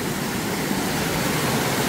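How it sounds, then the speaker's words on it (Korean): Jiktang waterfall in Jungwon Valley pours down a two-tiered rock face. The rushing water makes a constant, close, broadband roar with no breaks. "바로 중원계곡에 직탕폭포라고 할 수 있는 곳으로 제가 올라왔습니다."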